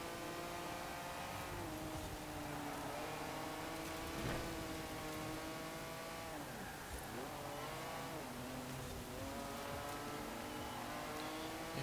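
A Fiat car in Forza Horizon 4 racing on a circuit, its small engine droning and revving steadily with rising and falling pitch through gear changes, constant and close throughout.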